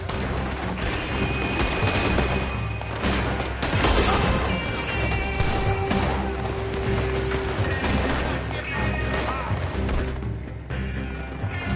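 Dense gunfire from the Red Dead Redemption 2 video game crackles in rapid bursts and volleys over a background of action, with shots overlapping continuously at close range.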